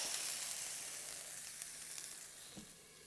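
Food cut in half browning and caramelizing in a pan, giving a steady, close sizzle and crackle that fades slightly, with a soft bump near the end.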